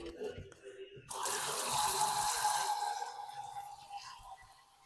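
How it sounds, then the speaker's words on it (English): Tap water gushes into a cooking pan at a kitchen sink, rising suddenly to a steady loud hiss that fills the pan for several seconds. "I'm going to take a pan over here and fill it full of water."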